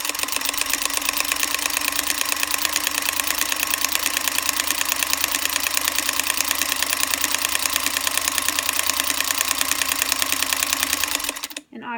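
A sewing machine runs fast and steady for about eleven seconds, its rapid needle clatter forming a dense, even mechanical buzz that stops abruptly near the end.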